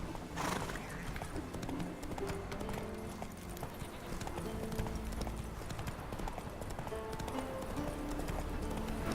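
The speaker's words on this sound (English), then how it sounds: "Come on, Roach. Giddy up." Roach the horse galloping in The Witcher 3, a fast, steady clip-clop of hooves close by for the whole stretch, with a neigh near the start.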